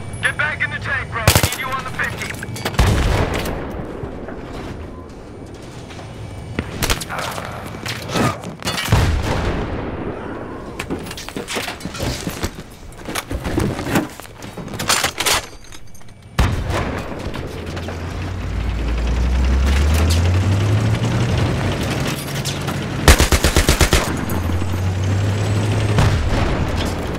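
Battlefield 3 video game combat with bursts of machine-gun fire and heavy gunshots, loud and close, interspersed with booming blasts, mechanical clatter and a rising engine rumble, with stretches of quieter gaps between volleys.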